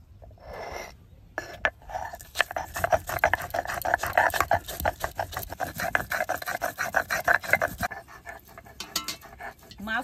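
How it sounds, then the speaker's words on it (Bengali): Cumin seeds and fresh ginger ground together on a stone slab, giving a steady, rhythmic rasping scrape with repeated strokes close by in a rural kitchen. "আমি তাহলে এদিকে জিরে আর আদা একসঙ্গে বেটে নেব"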